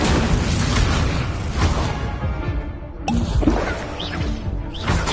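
Confringo and Incendio spell blasts in the video game Hogwarts Legacy give a dense run of booming, crackling bursts. Impacts come repeatedly and loudly over continuous battle noise.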